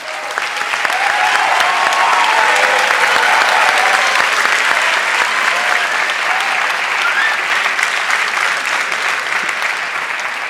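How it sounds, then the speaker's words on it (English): An audience at the EIT Digital Academy 2018 graduation ceremony gives warm applause for the digital science track graduates: loud, sustained clapping from a large crowd for about ten seconds, easing slightly toward the end. "Warm applause for all the graduates from the digital science track."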